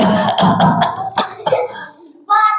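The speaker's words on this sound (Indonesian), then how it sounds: "Batuk-batuk setiap ayat batuk." Several quick, harsh coughs in a row, fairly close, then a short pause and a brief voiced sound at the end.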